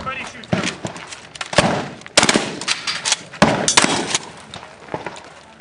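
Team at a 3-gun match firing together in a dense string of sharp, loud gunshots, some in rapid bursts, with several people talking and shouting over the shooting.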